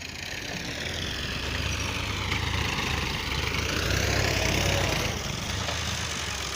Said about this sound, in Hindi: ट्रैक्टर वाला सुबह सुबह आ चुका है और रैंप बना रहा है।